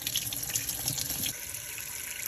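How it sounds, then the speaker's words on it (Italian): Potatoes being washed under a running kitchen tap, a steady close hiss of flowing water with small splashing shifts as they are handled, lasting the whole stretch. "Laviamo le patate"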